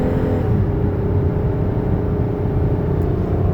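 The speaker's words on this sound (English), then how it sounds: "I want you to see this van gets up to highway speeds and performs well" A 2016 Chrysler Town & Country Touring wheelchair-accessible van with 52k miles accelerates toward highway speed, its engine a steady low drone with rising whir and road rumble heard from inside the cabin, no talking.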